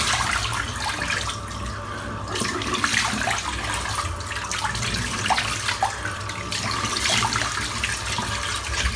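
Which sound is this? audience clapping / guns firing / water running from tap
water running from tap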